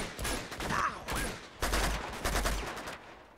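Rapid gunfire from Uncharted 2: Among Thieves: several loud bursts of shots with heavy recoil crack in quick succession, separated by brief pauses, close and punchy.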